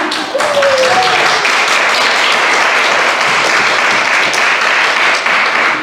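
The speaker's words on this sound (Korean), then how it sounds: "박수 한번 쳐야죠." A church congregation breaks into loud applause after a sermon point, a broad, even burst of many hands clapping that holds steady for several seconds.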